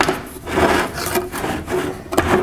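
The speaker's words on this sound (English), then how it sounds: "When you're mixing Bondo that's been separated, this stuff is some thick goo." A stick stirs thick, separated Bondo auto body filler, making close, gooey scraping and rubbing strokes that swell and fade in an uneven rhythm, with a sharper scrape near the end and no voices.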